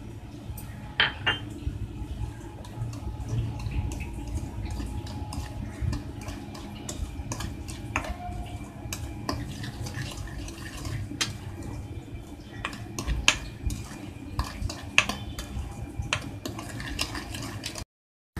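Cocoa, icing sugar and a butter-and-boiling-water mixture being stirred in a bowl, with light scraping and occasional spoon clinks against the bowl, quiet and close, without any talking.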